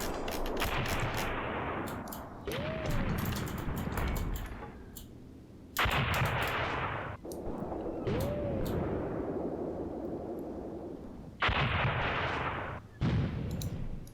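A German 88 gun firing repeatedly in the Graviteam Tactics wargame, several heavy booming shots at uneven intervals, each loud blast followed by a long rolling echo and metallic clanks, with no talking.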